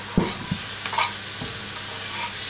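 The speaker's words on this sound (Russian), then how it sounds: "я грибы с луком обжариваю" Mushrooms and onion frying in olive oil in a pan, a loud, dense sizzle with a few soft knocks and stirring scrapes near the start.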